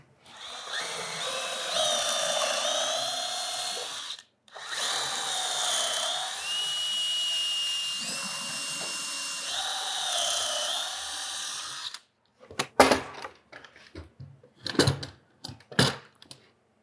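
A power sander whines steadily against flat wood pieces for about twelve seconds with one short pause, then gives way to a few brief, sharp bursts of activity.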